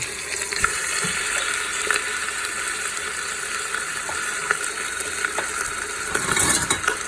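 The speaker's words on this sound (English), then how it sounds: "we're gonna put in 2 beef shanks and brown them" Two beef shanks browning in hot cooking oil on a stove set to high for borscht, a loud steady sizzle with light crackling throughout and a brief burst of stirring or shifting near the end, no voices.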